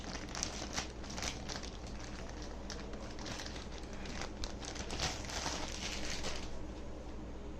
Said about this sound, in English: And unwrap this cover as well.